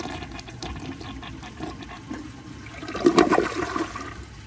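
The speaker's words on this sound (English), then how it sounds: "So here is a flush." A 2001 American Standard Cadet toilet flushes with a steady rush of water that swells toward the end, heard up close with no talking.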